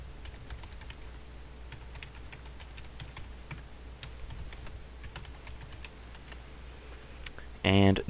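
Login details being typed on a computer keyboard, a steady run of light, close key taps with a soft hum underneath, ending in a short burst of louder noise.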